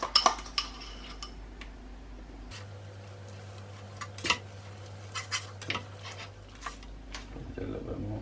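Utensils scrape and clink against a pan as an egg and Parmesan mix is stirred into carbonara pasta, light irregular taps over a low steady hum.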